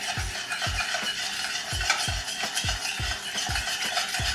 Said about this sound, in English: Stir it in pretty well here.